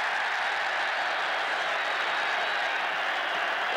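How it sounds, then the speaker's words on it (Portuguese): Big stadium crowd of Palmeiras supporters at a 1987 Campeonato Paulista semi-final against São Paulo, jeering the player Silas in a sustained, loud, roaring wash of voices and noise, heard from a distance. "A torcida do Palmeiras pega no pé do Silas"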